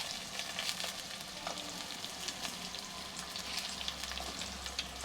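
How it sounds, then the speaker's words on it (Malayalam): Sliced shallots and green chillies fry steadily in a pan, a continuous close sizzle with faint crackles and no voices. "ചെറിയ ഉള്ളി വട്ടത്തിൽ അരിഞ്ഞ് വെച്ചതിന് അതൊന്ന് മൂക്കട്ടെ."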